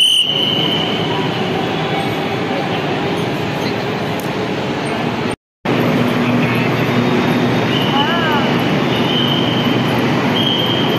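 A Navi Mumbai Metro train runs with a loud, steady rumble and rail noise throughout, with a brief gap midway and wheel squeal rising later.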